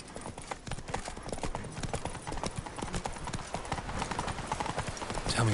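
Horse hooves clip-clop at a steady trot in The Witcher 3: Blood and Wine, a dense, continuous rhythm of hoofbeats that stays close and fairly loud throughout, with a brief snort or whinny near the end.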